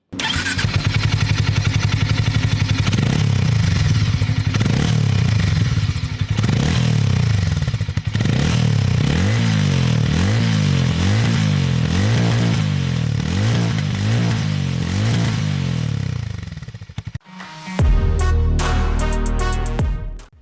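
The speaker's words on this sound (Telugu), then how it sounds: "ఎగ్జాస్ట్ సౌండ్ లౌడ్ అండ్ థంపియర్గా ఉంది" A Hero Mavrick 440 motorcycle engine runs loud and thumpy, its exhaust pulsing through repeated revs before cutting off, then a brief clattering restart near the end.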